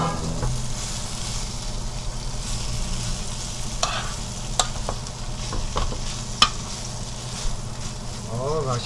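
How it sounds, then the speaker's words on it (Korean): Shishito peppers sizzle and crackle steadily in a hot pan with gochujang, with occasional scraping clicks of a utensil stirring through them. "여기다 이제 고추를 섞어."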